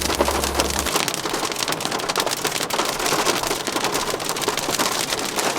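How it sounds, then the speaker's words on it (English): Heavy rain and hail pound a surface outdoors in the mountains during a thunderstorm, a dense continuous hiss and patter with a low rumble at the start, loud and close. "It started thundering and lightning like crazy, and now it is hailing."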